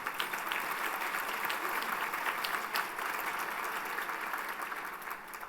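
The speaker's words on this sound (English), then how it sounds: "Please give them a round of applause." Audience applause at a conference opening luncheon: many hands clapping in a steady wash that holds for several seconds and then tapers slightly at the end.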